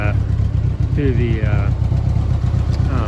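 A carbureted motorcycle engine idles rich on fresh gas in a low, steady, close rumble, with someone talking over it.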